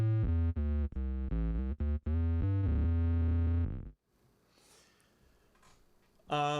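Bass guitar run through a Line 6 Helix attack synth set to a square wave pitched one octave down, giving thick buzzy synth notes in a quick rhythmic phrase, then a short quiet gap before another note.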